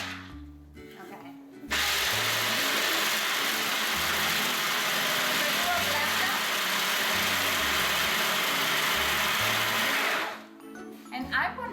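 A newly acquired kitchen machine whirs loudly as it grinds almonds toward a coarse flour, a steady motor drone running for about eight seconds before cutting off, with talk in the room around it.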